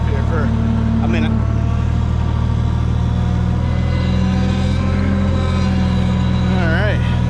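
A tractor engine idles and runs in a steady, loud, close drone as it is driven out of a front yard, its tone shifting slightly as it moves.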